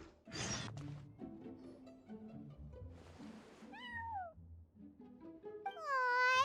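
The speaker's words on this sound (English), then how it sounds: "that's a good kitty, Sir Pouncelot." A cat in a video game meows several times, fairly close and clear, with rising and falling cries scattered between soft game sounds and thumps, the last meow longer and louder.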